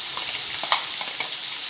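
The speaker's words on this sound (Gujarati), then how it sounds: "હવે ડુંગળીને આપણે સંતળાવા દઈશું।" Crushed onion sizzles and fries in hot oil with cumin and asafoetida for a Kathiyawadi kaju gathiya curry, a steady close hiss with faint stirring clicks and no voices.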